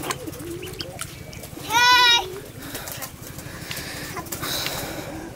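Pigeons coo softly over a steady low background, with one louder, harsh, bleating cry standing out near the middle and faint voices in the distance.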